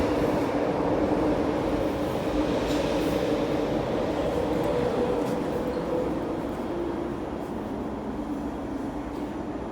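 A metro train rumbles steadily through Tai Shui Hang Station, a continuous loud roar that eases slightly toward the end, with no voices.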